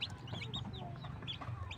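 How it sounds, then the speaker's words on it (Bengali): Native desi chicken chicks on a farm, a busy chorus of high thin peeps and cheeps repeating over a steady low background hum, close and fairly faint, with no talk. "এগুলো পিওর দেশি মুরগির বাচ্চা"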